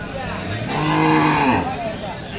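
A Sindhi cross cow gives one long, loud, close moo that swells and fades over a couple of seconds.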